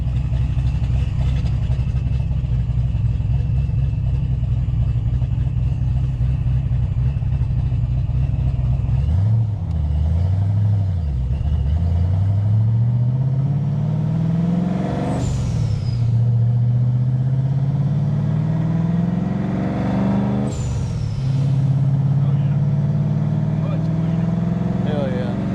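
A high-boost, high-compression Ford 302 car on stock rods and crank roars at a loud steady idle, then revs hard in second gear, the engine note climbing twice, close and dominant.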